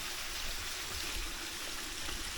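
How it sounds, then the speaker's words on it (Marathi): Spring water flowing beside a temple near the Savatkada waterfall in Chunakolvan, Rajapur, in the Konkan, a steady close rushing and trickling with no breaks. "हे झऱ्याचं पाणी आहे"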